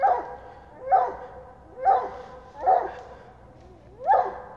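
A champion coonhound bays at a raccoon treed during a night hunt, with five loud, evenly spaced barks close to the recorder and short quiet gaps between them.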